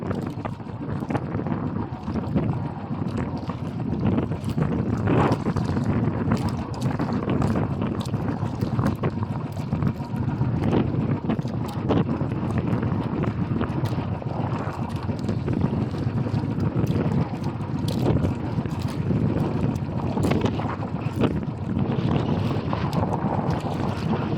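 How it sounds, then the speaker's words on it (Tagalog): Strong wind buffets the microphone over continuous splashing water and wind-driven waves, a loud rough rush that never lets up. "Lakas ang hangin. Magalaw pa ang alon."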